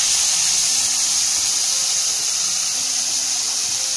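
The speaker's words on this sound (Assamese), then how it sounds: "এতিয়া পিউৰিখিনি দি দিলোঁ।" Puree poured into a pan of frying vegetables for a mixed veg and paneer dish, giving a steady, loud, hissing sizzle that fills the whole moment without any talking.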